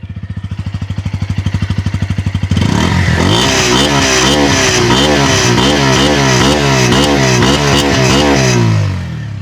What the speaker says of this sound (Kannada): ಸೊ ಗಾಡಿದು ಒಂದ್ಸಲ ಎಕ್ಸಾಸ್ಟ್ ನೋಟ್ ಕೇಳೋಣ.